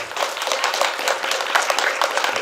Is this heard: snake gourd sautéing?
no